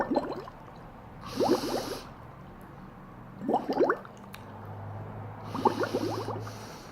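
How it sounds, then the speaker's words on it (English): Three sharp sniffs drawn in through the nose during a didgeridoo circular-breathing lesson, spaced a couple of seconds apart, close and clear against a quiet room with a faint low hum. "and then you just sniff."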